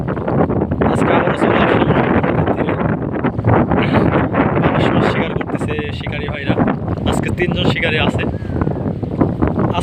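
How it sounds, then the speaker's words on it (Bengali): Strong wind on the Jamuna river produces loud, continuous buffeting across the microphone with rushing water noise, all heavy and close throughout. "আজকেও প্রচুর পরিমাণ বাতাস নদীতে ঢেউ চলতেছে"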